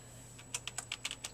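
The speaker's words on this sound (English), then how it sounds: "I will type in the password." Password typed on a computer keyboard at a Windows XP login: about seven quick, close keystroke clicks in an uneven rhythm over a low steady hum, with no voices.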